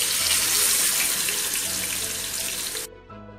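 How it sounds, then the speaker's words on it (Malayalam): Marinated king fish dropped into hot sunflower oil in a pan, giving a loud, steady hiss and sizzle that runs near and continuous, then cuts off sharply near the end to faint crackles. "ഇനി എണ്ണ ചൂടായിട്ട് അതിലോട്ട് മാരിനേറ്റ് ചെയ്ത് വെച്ച ഫിഷ് ഇട്ട് കൊടുക്കാം"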